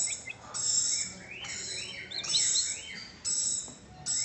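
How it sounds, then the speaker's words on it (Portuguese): Jandaya parakeets (jandaia mineira) give a run of harsh, rasping screeches in repeated bursts, loud and close, with short gaps between calls and no talking. "Temos aqui a jandaia mineira."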